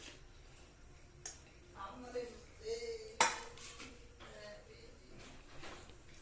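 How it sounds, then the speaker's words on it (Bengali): White ceramic plates are handled in a home kitchen, with several clinks and one sharp clatter among light rummaging, close by, while voices murmur faintly in the background. "আমাদের সাদা প্লেট গুলো নিয়ে আসো তো।"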